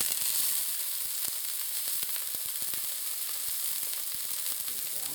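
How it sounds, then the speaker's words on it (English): Steady, loud sizzling of a 23-year-old freeze-dried pork chop frying in olive oil in a hot pan, with sharp crackles and pops scattered throughout and no talking. "we're going to throw this in the frying pan"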